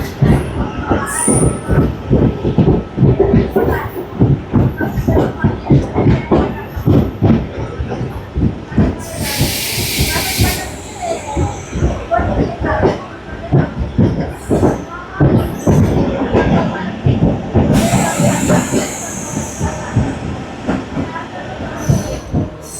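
A Repalle MEMU passenger train pulls away from a station, its loud rolling wheels clattering steadily over the rails, with squealing wheels and a hiss of brakes or air rising now and then.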